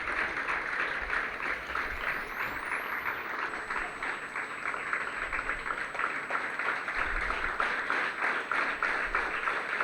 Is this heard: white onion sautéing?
no